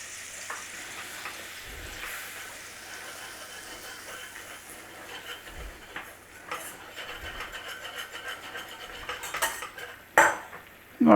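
A roux of butter and flour cooks gently in a pan on moderate heat, giving a soft low sizzle with occasional spoon scrapes and light clinks that grow louder toward the end.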